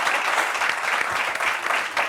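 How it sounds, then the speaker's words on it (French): A studio audience at a Réunion television show applauds in steady, dense clapping that holds evenly for the whole stretch, with no voices over it. "On applaudit, c'est mieux applaudir."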